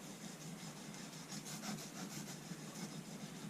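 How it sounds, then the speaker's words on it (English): Fiskars pruner blade rubbed flat on a bench stone, giving a soft, steady gritty scraping that repeats in even back-and-forth strokes, faint and close. "So we'll just put the blade flat on the stone"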